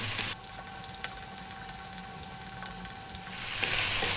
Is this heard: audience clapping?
no